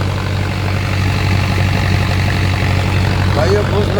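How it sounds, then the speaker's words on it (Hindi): A tractor engine idles steadily with a deep, constant low rumble and a hum that stays even throughout. "आवाज़ बिल्कुल नहीं बदली ट्रैक्टर की"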